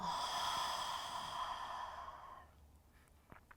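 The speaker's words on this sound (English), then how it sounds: "And breathe it out, exhale." A long, slow breath out during yoga breathing practice, a soft airy exhale close to the mic that tapers off into quiet with a faint sniff near the end.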